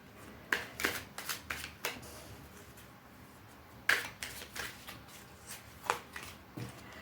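Tarot cards being shuffled and drawn, a run of crisp riffling bursts and soft slaps that come in uneven clusters, close and fairly quiet, with no talking.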